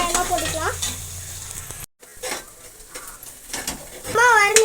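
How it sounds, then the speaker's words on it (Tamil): Onions sautéing in a pan until golden for village-style country chicken biryani, a close sizzle with stirring scrapes, mixed with warbling bird or high voice sounds and a brief dropout. "வெங்காயம் இப்போ வந்து நல்லா பொன்னிறமா நல்லா வதங்கணும்"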